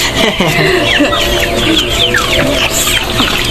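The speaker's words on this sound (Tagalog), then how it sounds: "Yung may manok sila. Pansabong po yun." Many chickens, including fighting cocks, cluck and chirp in a busy, noisy yard, with faint voices talking underneath and constant background clatter.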